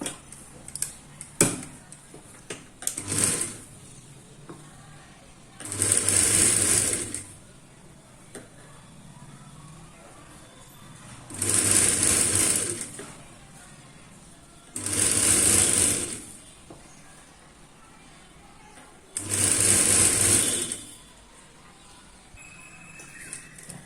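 A sewing machine stitching boys' shorts in four steady whirring runs of a few seconds each, separated by pauses filled with soft handling clicks and rustles of fabric, close and clear.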